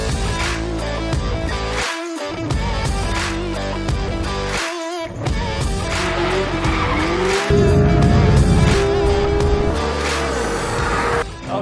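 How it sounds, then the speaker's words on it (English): A 2018 Porsche 911 GT3 RS high-revving engine at the Nürburgring, loud and close, rising and falling through gear shifts with brief cuts between, with tire squeal as the car corners. "Listen to that engine."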